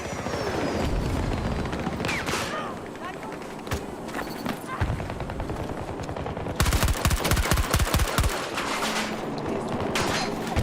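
Rapid gunfire crackles through a video game battle, with dense bursts and heavier automatic volleys in the second half, set against constant loud game noise and voices speaking over the action.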